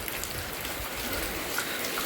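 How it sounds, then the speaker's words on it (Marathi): Rain falls steadily outdoors near a house during a crab-catching outing, a dense even hiss of drops spread across the whole stretch with no clear voices. "हा बघा पाऊस चालू झाला आहे"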